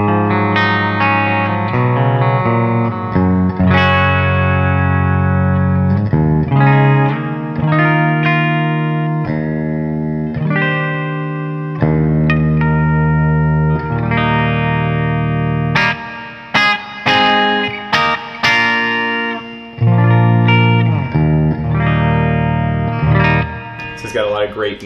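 A clean electric guitar, a PRS SC 245 with 57/08 pickups on the bridge pickup through an amp's clean channel, plays a bright, twangy run of chords and single notes, close and sustained with a touch of reverb, no voices.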